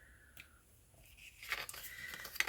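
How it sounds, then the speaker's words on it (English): Scissors cut through paper at close range, making a few quiet snips and crisp slicing rasps that grow louder and busier toward the end, with no talking. "So what I'm going to do is I'm just going to cut out"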